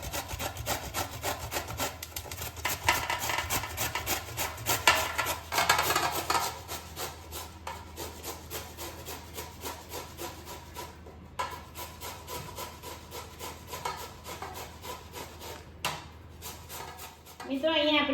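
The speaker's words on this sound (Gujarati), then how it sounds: "આપણે હવે છીણી લઈશું દૂધીને" Bottle gourd (dudhi) pushed over a hand grater, a steady rasping scrape repeated in quick strokes, fairly close and moderately loud, with occasional speech faintly in the background.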